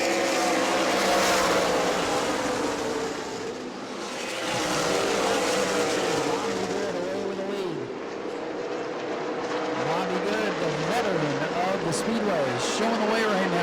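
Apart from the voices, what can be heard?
race cars racing at New Smyrna Speedway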